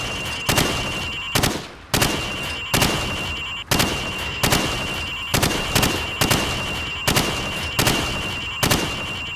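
Rapid gunshots ring out on the Call of Duty 4: Modern Warfare training range as pop-up targets of plaster and sheet metal are shot down: about fourteen loud, sharp reports at uneven intervals over a steady background hum.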